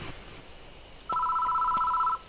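A phone booth telephone rings in Death Mark, one sustained electronic ring lasting about a second over a quiet background, with no voices.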